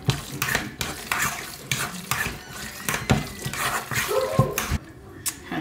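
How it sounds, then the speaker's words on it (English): Sweet potato pie filling made with milk is stirred and mixed in a bowl, giving repeated wet sloshing and scraping strokes at close range in a steady rhythm. "so we're just mixing it"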